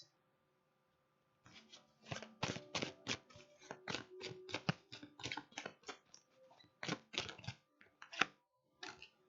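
Tarot cards are shuffled up close in quick, crisp bursts of rapid flicking and slapping, with short pauses between rounds.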